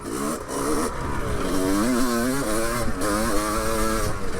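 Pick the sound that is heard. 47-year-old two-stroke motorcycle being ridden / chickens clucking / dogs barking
47-year-old two-stroke motorcycle being ridden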